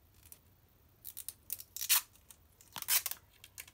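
A small piece of sellotape is torn for a craft, making a few quick, crisp ripping bursts close up in a quiet room, with no talk.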